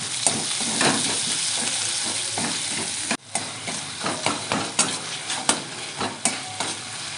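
Chopped tomato hits hot oil with fried onion, ginger and garlic for an egg and cauliflower dhoka dalna, giving a steady close sizzle broken by repeated spatula stirring and scraping strokes, with a brief sharp drop partway through.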